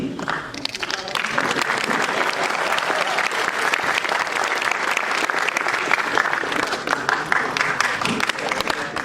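Applause from a student audience after a college dramatics club stage play, dense steady clapping filling the whole stretch with some voices mixed in.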